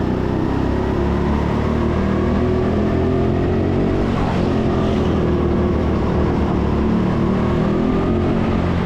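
Go-karts racing on an indoor karting track in Sheffield, a loud continuous engine drone with shifting pitch as karts accelerate and brake, heard close from the driver's seat with no talking.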